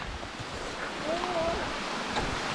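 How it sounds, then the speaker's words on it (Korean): A mountain valley stream at Gyesalpi valley below Munboksan rushes steadily as a continuous broadband wash of flowing water, close and fairly loud, with no talk over it. "이제 좀 계곡 같은 계곡을 만나봤어"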